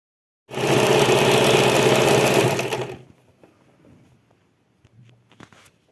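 A sewing machine stitches a prayer rug in one loud, fast, steady run of about two and a half seconds, then stops, leaving quiet fabric handling and small clicks.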